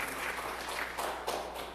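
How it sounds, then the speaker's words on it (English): Congregation at an Igbo Anglican church Sunday service clapping for a donor, a dense, steady patter of many hands that swells in bursts and fills the room, without speech. "Can you all clap for her, please?"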